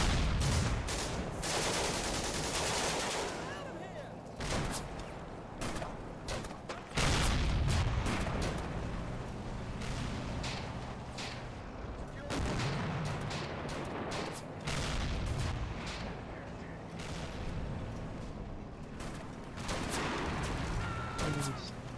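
Dense battle gunfire from the video game Combat Mission: Afrika Korps, a rapid continuous rattle of shots with heavy booms and thuds, loud and sustained throughout with a faint voice now and then.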